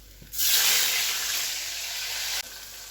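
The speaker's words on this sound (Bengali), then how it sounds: "এই যে আমার এতগুলো মাছ ভাজা হয়ে গেছে" Fish fry in hot oil in a home kitchen, giving a loud, close, hissing sizzle. The sound swells suddenly, holds for about two seconds, then drops back to a quieter background.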